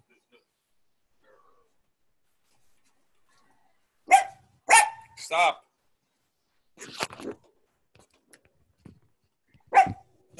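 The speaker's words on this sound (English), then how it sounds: "I think he's just hearing other dogs." A dog indoors barks in a handful of short, close bursts, with brief gaps of near silence and a person speaking briefly between them.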